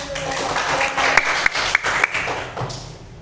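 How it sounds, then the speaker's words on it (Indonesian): Brief applause from a class of children after a religious lesson, scattered claps with a few sharp distinct hand strikes standing out, fading by the end. "Tepuk tangan."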